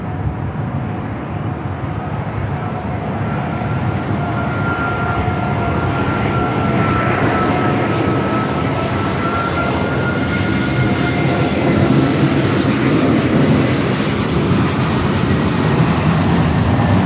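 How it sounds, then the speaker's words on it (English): An Airbus A380 airliner at LAX produces a sustained jet engine roar with a faint whine threaded through it, steady and fairly loud at a moderate distance for the whole stretch, with no voices. "we're going to head to the A380, popping through the fog here"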